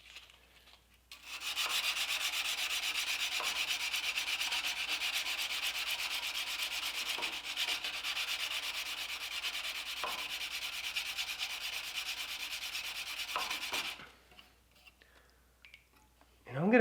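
Hand sanding the flat faces of a steel knife blade with 220 grit abrasive gives a steady, loud scratchy rubbing that runs on for about twelve seconds with brief pauses, then stops.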